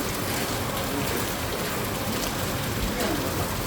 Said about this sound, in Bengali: এখানে অনেক বৃষ্টি হচ্ছে, প্রচুর বৃষ্টি হচ্ছে